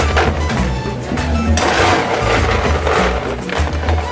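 Fresh ice is tipped into a glass for a Sri Lankan-style pina colada, a loud burst of rattling, clattering cubes that knock against each other, heard close up.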